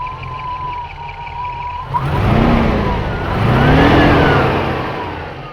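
A Land Rover Stage One V8 engine, an ex-New Zealand Army vehicle, runs steadily, then grows louder and rougher as it revs, with a whining, droning dynamo hum layered over the motor.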